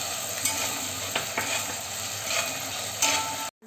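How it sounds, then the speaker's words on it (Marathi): Chopped onion and finely diced tomato sautéing together in a pan for a paneer veg biryani, giving a steady close sizzle with occasional scrapes of stirring, no voices. "हो, कांद्यामध्येच बारीक टोमॅटो सुद्धा आपण परतून घ्यायचा आहे."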